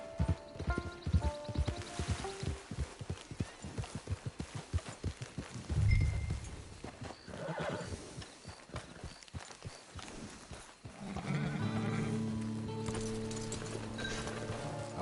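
Rhythmic clip-clop of horse hooves at a walk in a PS4 game, close and steady for several seconds, followed by a thudding snort or neigh and swelling orchestral music toward the end.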